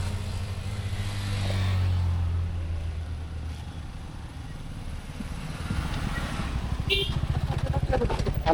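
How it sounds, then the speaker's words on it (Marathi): Busy road traffic with motorcycles and cars, heard as a low engine drone and a passing vehicle hum, with a motorcycle engine growing louder near the end while people talk nearby. "फुल ट्रॅफिक चालू आहे"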